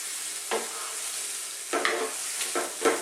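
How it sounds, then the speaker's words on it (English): Carrot coconut curry stirred in a pan over low heat, a steady soft sizzle punctuated by three brief scraping stirs of a utensil, close and quiet with no talk. "Stirring all the time."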